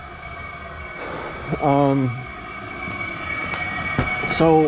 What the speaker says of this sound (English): It whistles pretty loud from outside